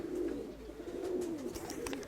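Pigeons cooing softly in a loft, a low rolling coo repeated over about two seconds, nearby and fairly faint with no voices.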